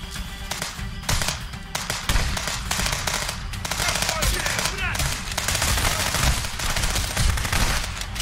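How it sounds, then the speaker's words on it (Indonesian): Shotgun fire in the video game Contraband Police crackles in dense, rapid bursts of sharp reports, loud and continuous throughout, with a voice briefly heard in the mix. "Coba bunyi shotgun."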